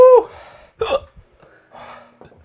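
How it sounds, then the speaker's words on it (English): Several sharp, sudden hiccups from one person, loud and close, each a short voiced catch separated by quiet gaps and faint breathing. "I wish I didn't have the hiccups."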